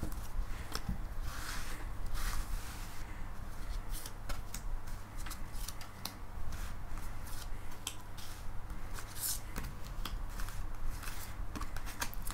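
Tarot cards shuffled for a cross-spread reading, a steady papery riffling and rubbing that continues softly and evenly throughout, with small flicks and taps scattered over a low background hum.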